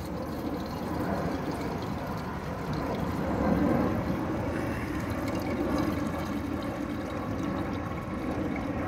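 Excess liquid poured off a bubbling bone preparation for a KNF water-soluble calcium phosphate batch, a steady low trickling pour running continuously and close by with no talk.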